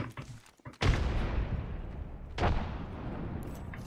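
Loud broadband blasts from grenades and gunfire in the battle-royale shooter Apex Legends, with a heavy explosion near one second, a second burst around two and a half seconds, and sustained rumbling combat noise in between.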